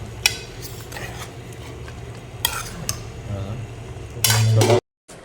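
Mixed vegetables for sambar stirred in a pot: scraping, clinking spoon strokes against metal over a soft background sizzle, with a few louder knocks near the end and no voices.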